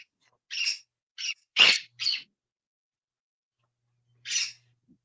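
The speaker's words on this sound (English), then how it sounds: "his birds get really loud" Birds give a handful of short, bright calls and screeches, loud and close, in quick bursts over the first two seconds with another call after a pause, no talking.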